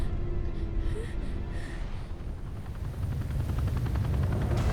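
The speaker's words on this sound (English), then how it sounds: "they never heard the stealth helicopter until they see it" A stealth helicopter in the video game Resident Evil Revelations 2 approaches with a steady, loud rotor roar and whooshing drone that builds slightly toward the end, with no voices.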